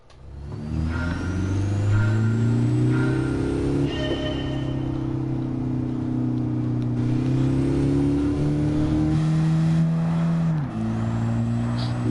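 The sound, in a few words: Mazda street car engine driving in Gran Turismo 7 video game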